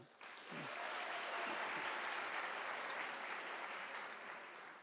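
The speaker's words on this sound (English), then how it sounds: "I want us to give a round of applause to our sign language interpreter, Asanda Kachwa." Sustained applause from a large graduation ceremony audience at a University of South Africa autumn ceremony, a steady dense wash of clapping held at even level for several seconds before tapering slightly.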